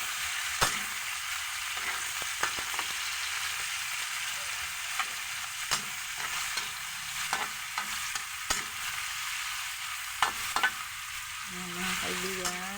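Onion and tomato sizzling in a frying pan while being stirred, a steady crackling fry with sharp clicks and scrapes of the utensil against the pan, close up and without talk.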